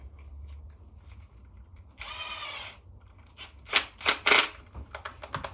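A power tool whirs in a short burst, then several rapid ratcheting bursts of an impact driver fitted with a drill chuck chattering into wood, close up.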